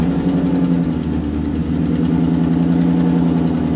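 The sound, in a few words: car exhaust leak on cold start idle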